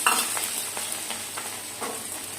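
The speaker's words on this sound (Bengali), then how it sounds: "ওই তেলের মধ্যে আমি ছোটো এলাচ, দারচিনি, জিরে আর পাঁচফোড়ন দিয়ে দিলাম" Whole cardamom, cinnamon, cumin and panch phoron fry in hot oil, giving a close, steady sizzle and crackle with light stirring scrapes in the pan and no voices.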